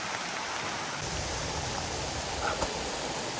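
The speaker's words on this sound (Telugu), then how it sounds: "వాటర్ ఫాల్ సౌండ్ అయితే అవి వస్తూ ఉంది" A forest waterfall rushes during a downpour, a continuous broadband wash of falling water that holds steady and loud, with a few faint splashes near the end.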